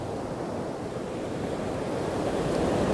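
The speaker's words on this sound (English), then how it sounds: "look at the water down here just swirling around" Sea water swirling below a coastal lookout on Canada's Sea to Sky Highway, with waves washing the shore as a steady, roaring broadband wash mixed with wind rumble, slightly louder toward the end, no voices.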